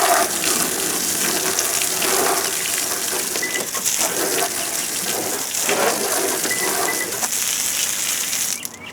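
Water sprays steadily onto a 2016 Toyota Tacoma's nerf bars during a wash, a close, continuous hissing gush that runs for several seconds and cuts off near the end.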